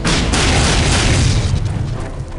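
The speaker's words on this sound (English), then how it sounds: "I'm hitting myself with the secondary fire, and it is actually EMPing me" A loud EMP blast from the alien's secondary fire in the game AVP2 Primal Hunt erupts as a broad, booming burst that stays dense and then slowly fades out.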